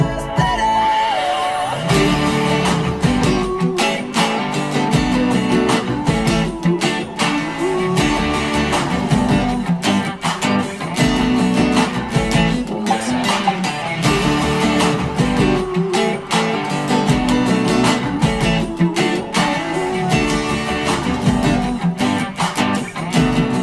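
Electric guitar strumming the chorus of a song, a loud, continuous run of rhythmic chords with dense strokes and no voices.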